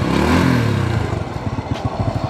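A Honda Astrea Grand motorcycle engine runs nearby, first a brief rev swelling and falling, then a steady, rapid put-put idle with a light mechanical clatter.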